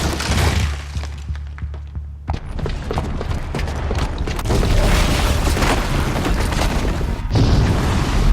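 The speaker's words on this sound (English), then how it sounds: "the booby trap on the bomb downstairs is gonna get set off" A booby-trapped bomb goes off in Horizon Zero Dawn, a loud sustained roar of blasts, shattering debris and rumbling impacts that fills the whole stretch with dense crashing noise and a heavy low-end thud near the start.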